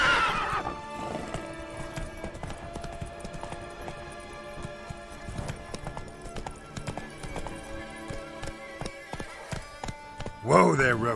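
Roach, a horse in The Witcher 3, gallops with rhythmic hoof clip-clops and neighs loudly at the start and end, with game music and ambience underneath.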